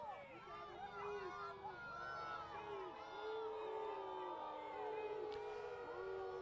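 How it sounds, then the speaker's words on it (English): Crowd at a high school varsity football game reacting to a disputed interception call, a sustained dense roar of many voices with shouts rising and falling throughout, fairly loud and steady. "you can hear from the reaction of the crowd, that's not a popular call"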